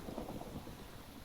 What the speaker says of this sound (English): since it's thunderstorming